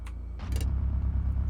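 A light, homemade Formula 1 car in the BeamNG driving game, its tires spinning, gives a steady low engine drone with a couple of brief sharp clicks over about a second and a half.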